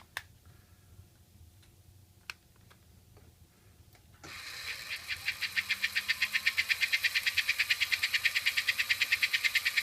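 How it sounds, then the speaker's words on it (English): A small HO-scale model steam locomotive starts up and chuffs in a quickening, steady rhythm of sharp puffs, close and fairly loud, following a few faint clicks. "Isn't it great the way you can hear that choo-choo?"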